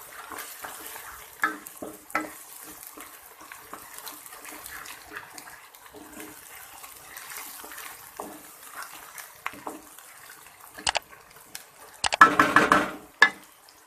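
Ginger, garlic and green chilli paste fries with browned onions in a pan, heard as a soft sizzle under intermittent scraping and stirring, which grows louder and busier near the end.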